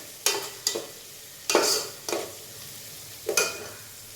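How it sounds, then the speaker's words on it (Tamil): Ginger garlic paste fries with small shallots and sliced onions in a pan for a mutton butter gravy, soft steady sizzling broken by five distinct scraping stirs of a spoon, close and fairly quiet, with no talk. "ஸோ ஓரளவுக்கு இஞ்சி பூண்டு பேஸ்ட்டு, சின்ன வெங்காயம், பெரிய வெங்காயம், முழுசாக போட்ட சின்ன வெங்காயம் எல்லாம் வந்து ஓரளவுக்கு குக் ஆகிட்டு இருக்குது"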